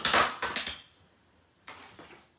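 Wooden-mounted craft stamp blocks set down on a card-making table, a burst of several close hollow clacks and clatters, a pause, then a couple more knocks.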